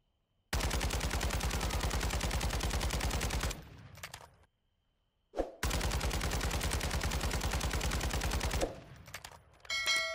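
Rapid automatic gunfire from an underbarrel-equipped weapon in Warzone 2.0, two long sustained bursts separated by a short pause, loud and close, with clattering tails after each burst.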